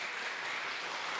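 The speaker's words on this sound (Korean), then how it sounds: "우리 환영의 박수 한번 주시고요." A church congregation at a Sunday worship service claps briefly to welcome a visitor, producing a soft, dense patter of many hands with no voices.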